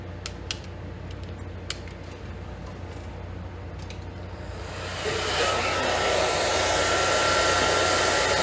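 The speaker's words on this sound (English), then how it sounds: "I'm gonna hit this with a hairdryer real quick" A hair dryer starts up and runs steadily with a loud, broadband whoosh, preceded by a few small clicks and rustles.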